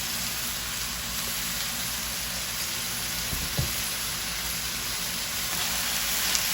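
Pork and vegetable stir fry with soy and oyster sauce being mixed in a pan, a faint steady sizzle with a brief scrape of stirring midway, quiet and without speech.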